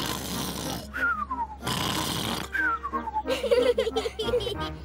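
A voice imitates a pig uncle's loud snoring in a children's cartoon: drawn-out rasping snores broken by falling whistled exhales, repeated two or three times up close, with brief childlike giggling sounds.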